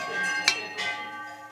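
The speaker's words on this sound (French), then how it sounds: "Certaines vaches portent des toupins, de grosses cloches lisses au son grave." Large smooth cow bells worn by cows in Alsace and Lorraine, two clear clanks ringing with a deep, lingering tone, fairly close and fading out.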